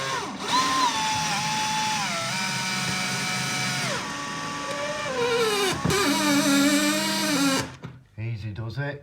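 Power drill countersinking a screw hole to fix Victorian coving to a hallway ceiling, a loud steady whine running several seconds that slows and shifts pitch, ending in a pause before a few shorter bursts.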